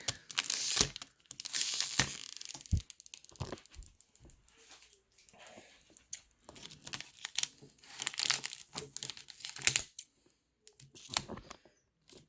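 A paper package wrapper being opened, with irregular bursts of close crinkling, tearing and rustling separated by short quiet gaps, handled near the microphone with no talk.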